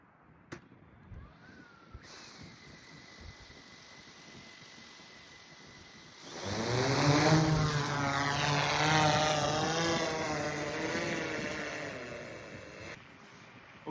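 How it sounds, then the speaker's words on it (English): A DJI Matrice 30T drone spins up its propellers and lifts off on a power line inspection, starting as a quiet idle whine before a loud, rising buzzing roar of rotors that stays steady close by, then fades slightly. "now when the batteries are heated enough, the drone is ready to take off"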